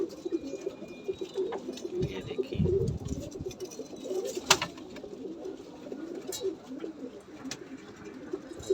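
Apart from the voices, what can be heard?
pigeon cooing while held in hand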